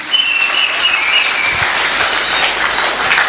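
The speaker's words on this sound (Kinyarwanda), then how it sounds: "Reka dukoma amashyi menshi kubw'Imana yacu." Loud, steady applause fills a church service as the congregation claps for God, a dense close wash of many hands with no break.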